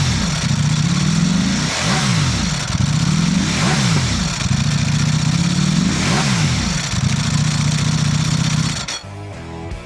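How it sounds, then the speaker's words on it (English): A 2021 Ducati Panigale V4 SP superbike engine revs loudly and close in repeated rising and falling sweeps, about five cycles, cutting off abruptly near the end. "The Panigale V4 SP, the iconic Ducati Superbike racing sound."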